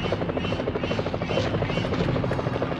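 Steady, pulsing helicopter rotor chop with a buzzing engine drone, close and constant throughout, in the video game Jaws Unleashed.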